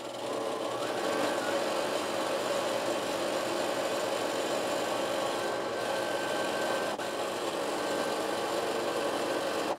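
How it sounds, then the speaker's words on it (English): A sewing machine runs a continuous zigzag stitch across a grocery bag, a steady close mechanical whir with even stitching rhythm and no voices. "We've got our little zigzag stitch across there."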